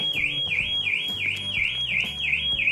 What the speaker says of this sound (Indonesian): Alarm akan tetap bunyi ya.